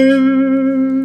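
An electric guitar chord rings out on the neck pickup in a guitar fitted with an Artec gain boost circuit, a single sustained, warm tone that holds steady and slowly fades over about a second, alone with no talking.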